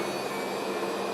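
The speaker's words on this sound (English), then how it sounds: "is the engines of this aircraft going into reverse." Airliner engines spooling into reverse thrust on landing, a steady loud broadband roar with a bright whine, unbroken and close throughout.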